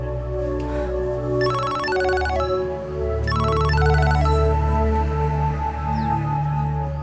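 A telephone rings in a home, its electronic ringtone repeating in two bursts over a steady low background hum, with no talking.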